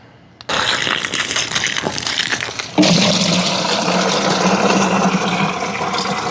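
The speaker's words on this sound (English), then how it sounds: "I'm going to dissolve a half a cup of Chilean nitrate into 5 gallons of water" Half a cup of Chilean nitrate being stirred into a 5-gallon bucket of water, a splashing, sloshing swirl that starts suddenly and grows louder partway through, continuous and close.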